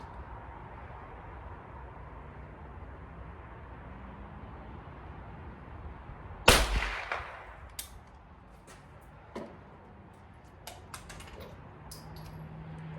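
A Chiappa Little Badger .22LR survival rifle fires at an outdoor range: one loud, sharp crack stands out mid-clip, followed by fainter clicks and small knocks over steady wind-like noise.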